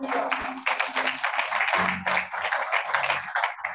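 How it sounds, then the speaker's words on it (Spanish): A church congregation claps for the Lord during a worship service on soul healing and deliverance, a dense, continuous patter of many hands, steady and fairly close, with a few low voices mixed in. "Dele un aplauso al Señor."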